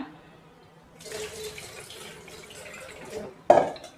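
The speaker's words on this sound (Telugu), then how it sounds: "కడుక్కొని వాటర్ పంపేద్దాం ఇలా" Rinse water is poured off washed roasted lentils in a kitchen, a soft running trickle and splash building in the middle, then a brief louder slosh near the end, with no talking.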